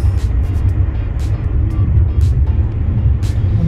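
Heavy, loud road noise from traffic on a hilly road near Ubatuba, with a car rushing by fast and a steady low rumble throughout, broken by brief hissing bursts.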